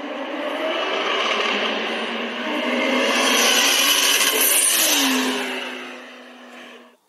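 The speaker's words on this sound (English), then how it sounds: "Listen to them turbos." Turbocharged race cars, including a Nissan, accelerate hard with a sustained, loud engine roar and whine that swells as they pass close by, then fades and drops away near the end.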